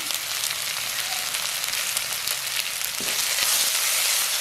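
Curry leaves sizzle loudly in hot oil for a Jaffna-style shark curry, a dense, continuous close-up crackle and hiss that swells slightly toward the end, with no voices.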